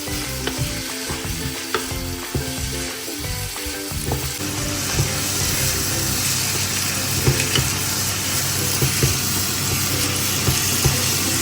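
Onions, ginger, garlic and green chilli fry in a pan with a constant close sizzle, broken early on by rattling stirs and scrapes of a spoon, then settling into a steady loud hiss.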